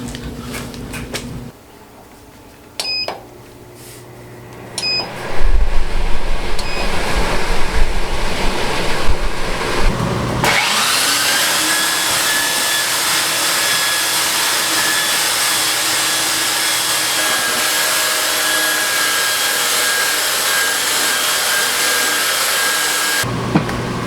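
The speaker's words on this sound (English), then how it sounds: "turn this fan on, or this air system, and see if it sucks" A WEN air filtration system's fan starts up in a sawdust-filled workshop after a few knocks and switch sounds, then roars with a loud, steady rushing whoosh of air that holds constant until it cuts off at the end.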